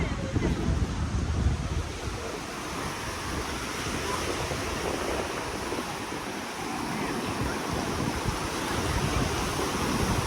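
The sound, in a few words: ocean waves on the beach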